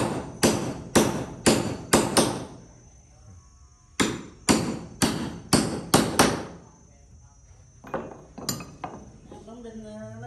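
Hammers drive nails into a wooden ghe ngo racing boat being built at Pothisatharam pagoda, with sharp, ringing blows in quick bursts of four or five, pausing between groups, under faint background talk.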